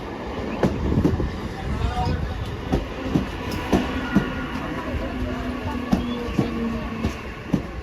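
A passenger train runs along the rails on a trip to Basirhat, its steady rumble broken by regular clickety-clack wheel beats, heard from close by without talk.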